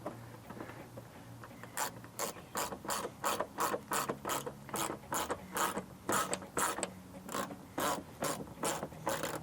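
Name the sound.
ratchet tightening 10mm bolts on 4Runner mud flap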